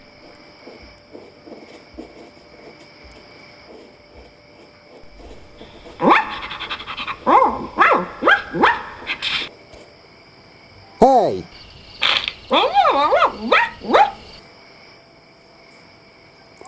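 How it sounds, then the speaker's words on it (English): A sheepdog puppy yips and barks in two lively bursts, with panting and steady crickets chirping in the background of a night forest; a person briefly calls out. "what is a sheepdog puppy doing here?"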